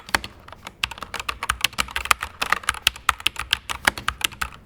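Rapid, crisp clicking of keys being typed on a Corsair K100 RGB mechanical keyboard, an uneven run of close, sharp keystrokes heard alone without any voices.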